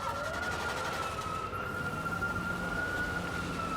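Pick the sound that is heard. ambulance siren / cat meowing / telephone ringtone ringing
ambulance siren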